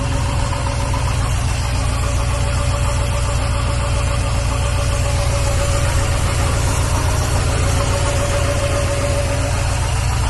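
A small engine, a Husqvarna HT383e, idles steadily and close, a continuous low rumble with a faint mechanical ticking and no pauses throughout.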